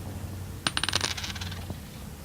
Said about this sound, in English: If you're missing a ring and it sounds like this normally when you drop it